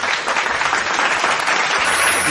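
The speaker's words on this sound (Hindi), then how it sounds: "आपण मान सम्मुख रे जोरदार करताली सहित स्वागत करिबा।" An audience at an Odia devotional bhajan performance gives loud, continuous applause to welcome a singer, a thick crackle of many hands clapping without pause.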